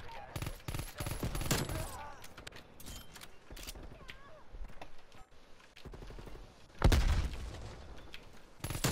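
Pistol and MP5 submachine gun fire in Call of Duty Cold War, rapid crackling bursts of shots near and far, with a loud blast near the end and a voice talking in between.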